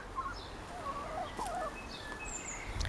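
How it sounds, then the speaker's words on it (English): Four backyard chickens around their coop, with repeated soft clucks and calls close by over a steady outdoor rumble, plus occasional brief rustles. "So here are the chickens."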